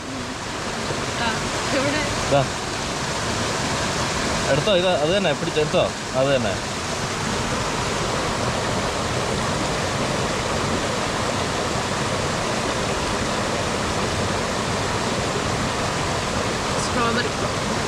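Continuous broadband rush of a flowing stream, loud and close throughout, with people talking over it in the first few seconds.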